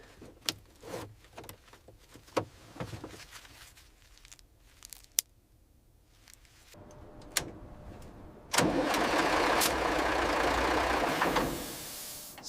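An abandoned bus being started: scattered clicks and knocks give way to a starter cranking the engine in a steady, loud churning burst that runs several seconds before cutting off, without catching.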